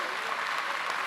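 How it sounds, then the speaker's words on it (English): Audience applause at a National Signing Day 2019 ceremony for athletes who qualified academically, a short burst of steady, even clapping from a room full of people. "let's give them a hand of applause for that"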